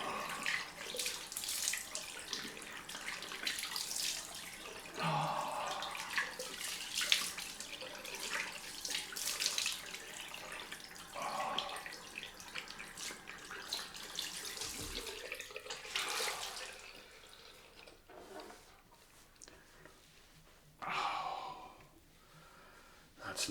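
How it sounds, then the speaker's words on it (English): Cold water runs from a tap to rinse a face after a shave with a Thorn razor, steady splashing and running water near the sink for most of the stretch, easing off near the end with brief sighs and breaths. "Right, let's wash this off with cold water."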